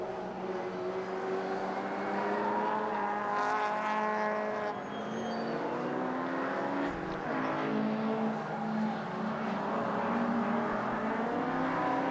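Historic racing cars on the last lap of the HRDC Jack Sears Trophy at Silverstone, a Ford Mustang leading, their engines rising and falling in pitch as they pass, loud and distant in turns over several seconds.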